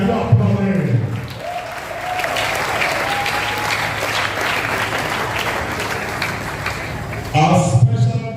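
Broad, steady applause from a large audience at the official commissioning of Benin Technical College, a continuous crowd clap lasting several seconds, with an announcer's voice briefly at the start and end.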